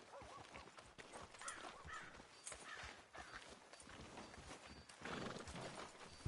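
Horse hooves clip-clop in the western video game Red Dead Redemption 2, a steady, fairly close walking rhythm with occasional snorts and whinnies over faint ambient game sound.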